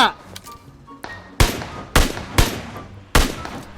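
Gunfire in PUBG Mobile from an AK or SKS, four sharp, separate shots about half a second apart after a quieter stretch, loud and close, with a player talking in between.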